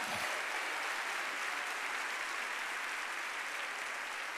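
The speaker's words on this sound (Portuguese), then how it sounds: "dê um aplauso ao Senhor." Dense, sustained applause from a congregation at an evening Baptist church service in Lagoinha, a steady wash of many hands clapping that stays loud and even throughout.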